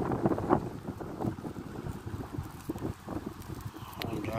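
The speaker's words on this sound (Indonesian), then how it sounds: "Mulai dengar kedengaran anginnya nih." Strong wind gusting around a tall electricity pylon, buffeting the microphone in uneven low rumbling bursts, loudest near the start, with no clear talk.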